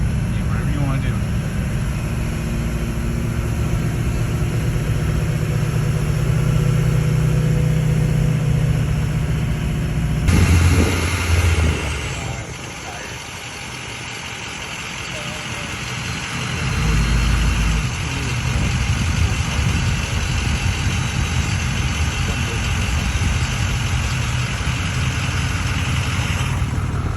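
A 2006 truck with a 24-valve diesel engine idles with a steady low rumble, and its tone shifts partway through as the engine note changes. Background noise runs throughout.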